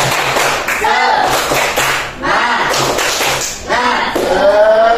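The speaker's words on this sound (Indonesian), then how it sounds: "Nah, sebelumnya kita tepuk semangat dulu." Fifth-grade pupils in a classroom do the rhythmic 'tepuk semangat' clapping chant, loud patterned claps in repeated bursts mixed with children's voices chanting along.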